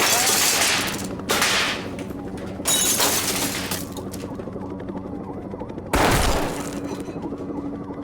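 Bursts of gunfire in the school-shooting video game Zero Hour: Columbine, several loud volleys with crashing, shattering impacts between sustained rattling shots, set against a steady background din.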